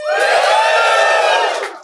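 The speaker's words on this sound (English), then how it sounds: "Give us a little cheer if you have heard Do Go On before." Live podcast audience at a comedy show cheering and whooping together, a loud burst of crowd voices that holds steady, then fades at the end.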